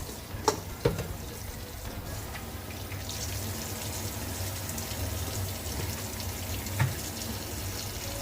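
Steady running water from a tap as raw oxtail is rinsed, a continuous gushing wash with a few faint clunks and knocks of the meat and bowl, no talking.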